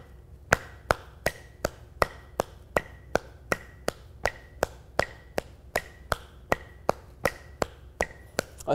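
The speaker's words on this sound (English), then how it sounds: "Now we're going to begin clapping twice as fast as your foot." Crisp hand claps repeat at a steady moderate pace in a percussion practice drill, two claps to each foot tap. They sound close and clean, with no talking.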